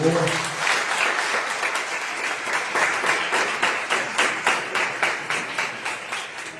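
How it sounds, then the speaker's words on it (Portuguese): A church congregation applauds steadily for several seconds, dense clapping settling into a rhythmic, unified beat toward the end, fairly loud and close. "Vocês podem aplaudir o nome do Senhor."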